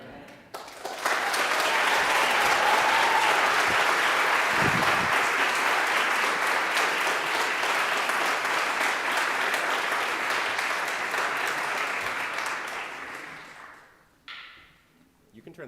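Applause from a high school recitation night audience swells quickly after a quiet start and holds as a thick, steady wash of clapping for over ten seconds before tapering off and stopping, with a brief voice heard near the end.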